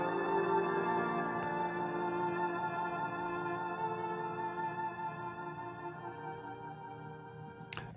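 A warped old recording of a string arrangement holds sustained, smeared chords at low, muffled volume that fade slowly, ending with a faint click.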